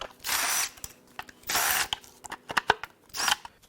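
Power tool backing out the few valve cover bolts on a 2.8L Duramax diesel engine from a 2016-2022 Colorado/Canyon, three loud whirring bursts separated by clicks and ratcheting clatter, no talking.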